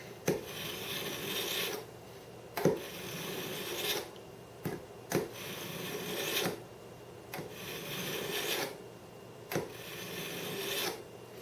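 Kitchen knife being drawn through a SimpleTaste manual sharpener, a close, steady rasping grind repeated in about eight even strokes with brief pauses between them.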